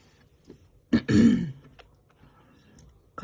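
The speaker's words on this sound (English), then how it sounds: "Coughing from the dust." Coughing from dust, one short harsh throaty cough burst with a brief clearing sound, close and fairly loud against near silence.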